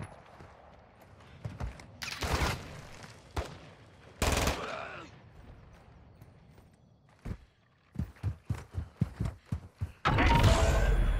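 Gunfire in a combat video game: scattered loud bursts early, then a quick run of separate sharp shots, and a dense final volley, with quiet gaps between.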